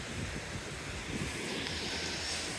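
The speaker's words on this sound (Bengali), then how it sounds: "ঢেউ, বিশাল বড় বড় ঢেউ হয়।" Atlantic Ocean waves at night make a steady, dense roar of surf, with wind buffeting the microphone throughout and no pause.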